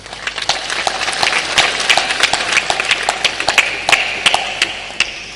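Rapid, loud hand clapping with many quick, irregular claps, like a group applauding together, continuing steadily throughout.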